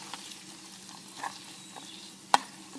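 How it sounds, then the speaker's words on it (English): Garlic browning in a frying pan while hot peppers are cooked, a faint steady sizzle with light stirring scrapes and one sharp click near the end. "the garlic you're just supposed to brown"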